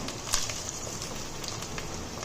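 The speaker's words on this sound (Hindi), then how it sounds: "अब हम इसमें अदरक लहसुन पेस्ट ऐड करेंगे, फ्राई करेंगे।" Meat sizzles and crackles softly in a pan with ginger garlic paste and onions, a steady faint hiss with small pops scattered throughout.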